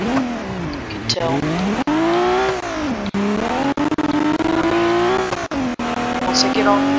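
A small-engined Ibishu Pessima coupe in the BeamNG driving game revs up and down in long, rising and falling whines, loud and close, with brief dips between gear changes.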